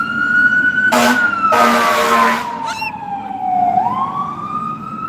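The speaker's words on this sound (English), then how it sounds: "Here he comes, big fire truck." A loud fire truck siren wails close by, its pitch sliding down as it passes, broken by two blasts of a harsh air horn.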